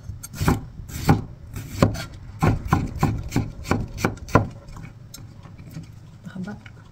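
A knife chops garlic and onion on a wooden board for lumpiang gulay, giving about a dozen sharp, quick, close strikes that thin out toward the end.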